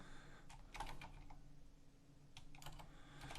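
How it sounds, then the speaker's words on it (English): Quiet typing on a computer keyboard while entering data into a spreadsheet, with bursts of rapid key clicks separated by short pauses, faint and close. "you're just typing in data"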